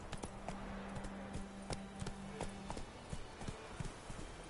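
Hooves of Roach the horse in The Witcher 3 video game clip-clop in a brisk, regular rhythm, close and crisp, a steady run of hoof strikes with faint background game ambience.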